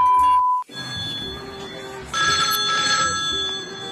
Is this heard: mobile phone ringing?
yes